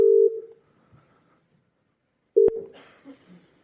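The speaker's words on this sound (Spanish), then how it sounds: "Esta es mi centralita y yo voy a llamar por teléfono a la IA." Telephone keypad dialing tones calling an AI phone system: a loud steady beep, a pause of about two seconds, then another beep followed by faint line sounds.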